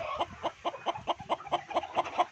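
Brooding hens on a farm clucking in a quick, steady rhythm of short close clucks, about ten in a row, with no talk.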